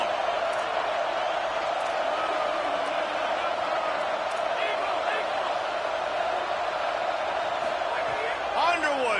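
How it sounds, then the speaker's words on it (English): Dense, steady roar of a football stadium crowd building on a third-down defensive stand, loud and continuous throughout with faint whistles and shouts riding on top. "Decibels rising as the crowd gets behind this defense on third down."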